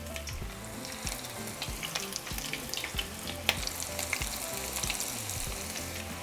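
Tacos dorados, corn tortillas with shredded beef, frying in a shallow layer of hot oil, giving a close, continuous crackling sizzle with occasional pops and light stirring sounds.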